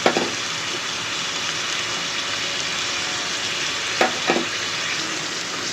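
Vegetables fry in a pan with a steady, dense sizzle, broken by a few soft scraping knocks as they are stirred, with no talk over the cooking.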